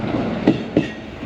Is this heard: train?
yes